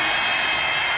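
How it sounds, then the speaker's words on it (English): Broad, steady crowd roar fills the Alamodome at a San Antonio Commanders home football game against the Arizona Hotshots, a dense continuous wash of noise with no distinct voices standing out. "Back in the Alamo Dome, you hear the crowd."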